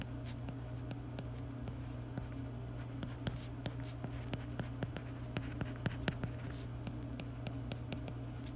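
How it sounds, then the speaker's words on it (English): A pen drawing a chemical structure on paper makes quiet, close scratching strokes in irregular short bursts over a steady low background hum, with no talk. "So let me draw that out."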